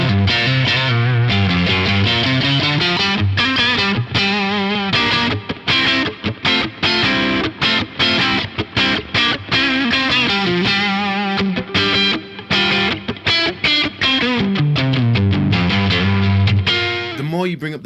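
Overdriven electric guitar through an Origin Effects Halcyon Green overdrive with the dry control at halfway, playing a continuous loud run of chords and choppy riffs with frequent short breaks.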